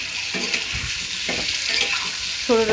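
Eggs fry lightly in a pan for a chana dal and egg bhuna, giving a soft, steady sizzle. Faint stirring scrapes sound close by, and a brief tonal sound comes near the end.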